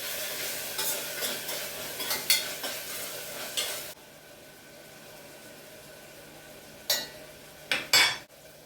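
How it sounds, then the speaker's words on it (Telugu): Masala for mutton curry is stirred and fried in a pan, with a steady sizzle and scraping spoon strokes over the first four seconds, then a quieter simmer broken by a few sharp clinks of utensil against pan. "పచ్చి వాసన పోయేంత వరకు ఒకసారి బాగా మిక్స్ చేస్తున్నాను."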